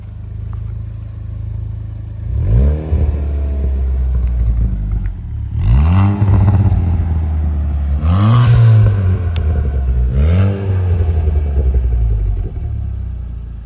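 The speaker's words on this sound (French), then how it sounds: "Il vient de nous mettre un jeune coup de gaz là." A car engine with catalytic converters is revved hard several times in bursts, each throttle blip rising into a loud, booming exhaust roar and falling back to a deep, rumbling idle between them.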